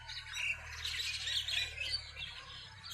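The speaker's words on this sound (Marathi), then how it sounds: "हे पक्षी" Pigeons and other birds at the Shembal Pimpri bus stand, giving a continuous busy chorus of squawks and chirps with no talking, set against a low steady background rumble.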